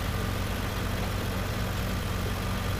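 A tractor engine drones steadily while it pulls a new disc harrow through a field, a constant low rumble with no pauses or talk.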